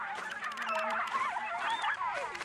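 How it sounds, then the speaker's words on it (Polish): Birds honk in Lethal Company, a flurry of loud goose-like calls that overlap and rise and fall in pitch for a couple of seconds, with no talking. "Tam były jakieś ptaki."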